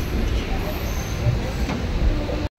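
Rumble of a moving commuter train near Kolkata heard from inside a carriage, a steady low rolling noise with faint rattles throughout, cutting off abruptly at the end.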